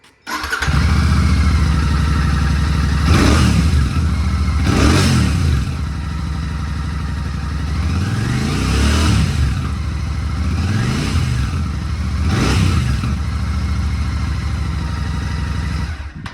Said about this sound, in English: I'll start the bike. I have the key in it, and we'll just listen to it and see how it sounds.